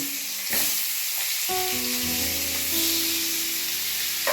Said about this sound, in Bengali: এবার কড়াইয়ে তেল গরম হয়ে গেছে, এবার মাছগুলো আমি দিয়ে দিলাম ভাজার জন্য